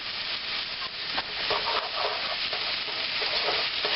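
Sausage, lentils and chorizo stirred in a frying pan, a steady close sizzle with scraping stir strokes throughout, no talking.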